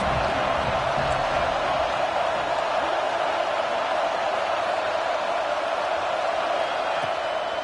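A dense, steady roar from a football stadium crowd backing the defense on a third down in an Oregon versus Auburn game, loud and unbroken throughout with no talk in the foreground.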